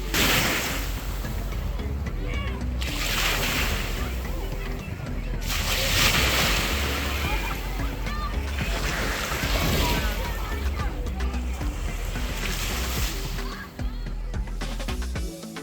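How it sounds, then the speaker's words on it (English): Surf on an Atlantic Ocean beach with a roped-off swimming area, a steady broadband wash of breaking waves rising and falling in swells, with wind noise and faint voices mixed in. "It is the Atlantic Ocean."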